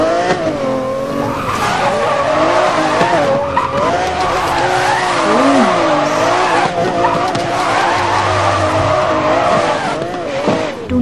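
Lamborghini Aventador racing game car skidding with sustained tire squeal over a loud, continuous engine roar, wavering pitch throughout, close and steady.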